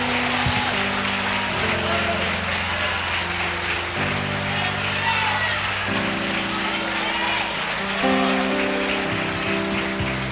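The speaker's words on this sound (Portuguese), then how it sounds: "Você pode dar uma salva de palmas para Jesus" A crowd claps steadily throughout at a church conference service while sustained keyboard chords play underneath, shifting every couple of seconds.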